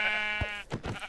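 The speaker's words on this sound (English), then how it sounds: "where did the sheep go? I think they were this way." A sheep bleats in the Minecraft video game, giving one wavering, drawn-out call at close range followed by a few short, soft sounds.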